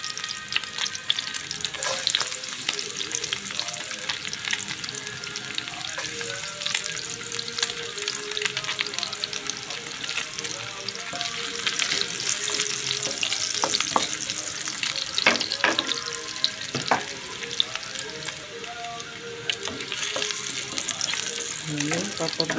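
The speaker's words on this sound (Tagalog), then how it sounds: "papabrown-brown muna natin ang ating bawang" Chopped garlic frying in a pan for a broccoli and pork dish gives a steady close sizzle, with stirring scrapes and brief clinks running through it.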